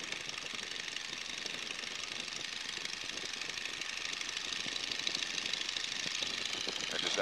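A small airplane engine at takeoff power on a runway gives a harsh, rattling roar that stays fairly faint but builds steadily in loudness toward the end.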